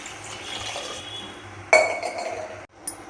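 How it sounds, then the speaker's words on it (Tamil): Water poured into a cooking pot for tomato basmati rice: a steady hiss of flowing liquid, broken by a sharp metallic clink near the middle, then a short pause and a final splash. "இந்த பிரியாணிக்கு அரிசிக்கு தேவையான தண்ணியை நான் ஊற்றிக்கிறேங்க."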